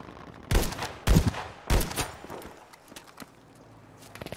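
Sniper rifle fire in the shooter game Battlefield V. Three loud, heavy shots ring out about half a second apart, close by. Fainter pops and background battle noise follow.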